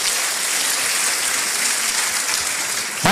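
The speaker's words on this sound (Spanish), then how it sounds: "Fuerte el aplauso para ustedes." Audience applause at a business opportunity meeting, a dense, steady clatter of many hands clapping at once, loud and sustained throughout before a brief thump at the very end.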